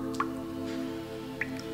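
Thermal water is sprayed on to moisten the face before a facial massage: two faint, soft drips or squishes sit over a steady low hum, close up and quiet.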